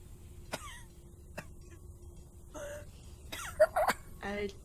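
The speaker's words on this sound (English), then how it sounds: "Someone coughing in there." A few scattered coughs, short and fairly faint, spaced apart with some throat sounds and a closer burst near the end.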